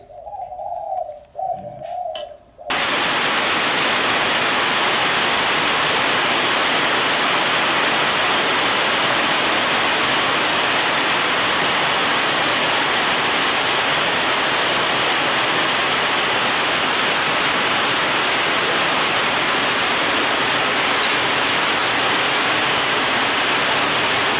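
After a short quiet stretch with a brief sound, a steady loud rush of heavy rain sets in and continues unbroken.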